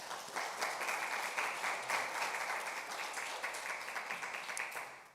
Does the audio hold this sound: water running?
no